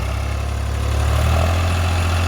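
A 50 hp tractor engine pulls a rotavator in first gear through wet, muddy field soil, giving a steady low diesel drone with a deep throbbing rumble, close and continuous, with no talk.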